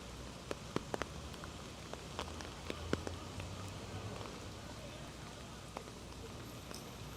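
Heavy rain pours down outdoors in Long Island City, New York, a steady dense hiss of drops on surfaces with scattered sharper drips, fairly soft and continuous throughout.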